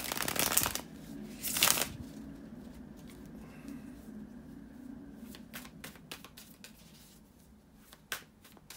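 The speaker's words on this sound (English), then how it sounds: "bear with me a second, guys, to shuffle the cards," Tarot cards being shuffled by hand, with crisp riffling bursts near the start and quieter flicks and taps that continue, close and fairly soft, with no talking.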